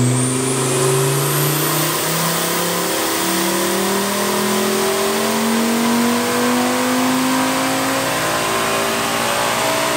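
A turbocharged 07K five-cylinder swapped into a Porsche 944 pulls hard and loud, its engine note climbing steadily toward 7000 rpm in one sustained run with no talk.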